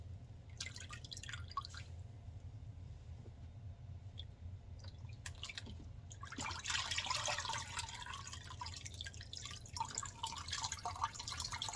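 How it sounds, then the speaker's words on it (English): Water dripping and trickling from a squeezed wool diaper cover during hand washing, faint scattered drips at first, then a denser run of splashing drips in a quiet room. "And I just fold it over and I squeeze the water out."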